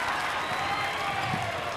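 A high school boys' basketball crowd at St Ignatius gives a brief, steady roar of cheering and clapping, fairly loud and continuous, with faint voices mixed in.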